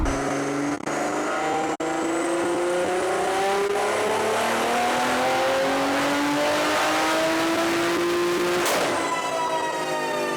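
A JB4-tuned, heavily boosted car screams through a dyno pull, its engine note climbing steadily and loudly in one long sweep before cutting off sharply near the end, with no talking.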